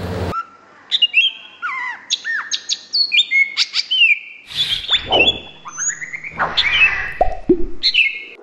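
A small-bodied green leafbird (cucak ijo) sings a lively, varied song of rapid whistles, chirps and sweeping trills, close and clear, one phrase after another with brief gaps and no talk.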